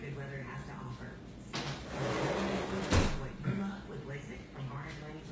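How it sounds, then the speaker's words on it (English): A door is pushed shut in a home kitchen while rain falls outside, giving a single muffled thud and a brief clatter in the middle, close by, with someone talking around it. "close the door here."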